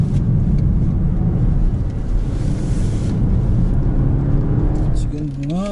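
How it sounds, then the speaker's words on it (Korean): Cabin sound from inside a BMW 4 Series Gran Coupe cruising in comfort mode: a loud, steady road and engine drone with wind rush that holds even throughout, with no sharp changes. "지금은 주행 모드를 컴포트에 놓고 달리고 있는데요"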